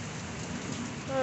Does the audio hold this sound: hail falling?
yes